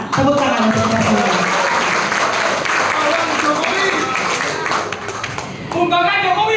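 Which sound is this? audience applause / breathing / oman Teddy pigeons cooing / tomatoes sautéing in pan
audience applause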